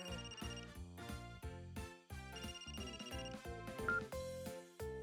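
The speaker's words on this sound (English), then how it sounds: "Phone's ringing." A phone ringing in the video game Another Code Recollection, a bright, melodic electronic ringtone pattern that repeats in quick tonal bursts for several seconds, fairly quiet and heard alone.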